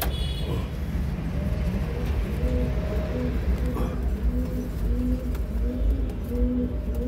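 A king pigeon brooding on its eggs coos steadily, the low rhythmic calls repeating close by through the whole stretch over a constant background hum.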